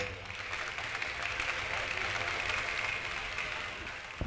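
A crowd at a village Ramamandal devotional performance applauds a donor with steady, dense clapping that lasts several seconds at an even loudness, with voices mixed in.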